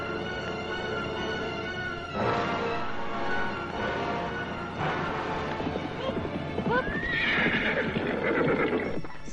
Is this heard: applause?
no